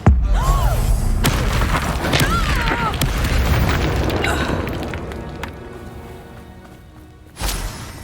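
A booming Confringo fire blast spell in Hogwarts Legacy hits with a heavy impact amid swirling whooshes and magical tones, fading into a rumbling tail before a second sharp thump near the end.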